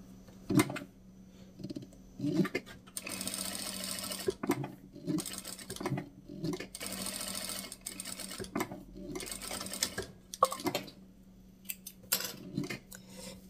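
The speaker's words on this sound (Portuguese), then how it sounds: "vou passar uma costurinha aqui de cada lado" Sewing machine stitching a small folded square of fabric, running in short repeated bursts with brief pauses between them, close and fairly quiet, with light handling clicks.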